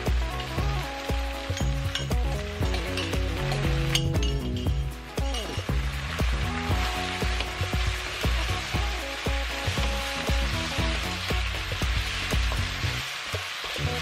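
Chicken and ginger stir-fry sizzling loudly in a pan, a continuous close frying hiss broken by clinks of utensils against the pan, with music playing underneath.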